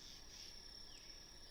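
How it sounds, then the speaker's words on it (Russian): Crickets chirp at night at a summer camp, a faint, steady high-pitched trill that continues without a break through the whole moment, with no voices. "Сейчас только какофония сверчков"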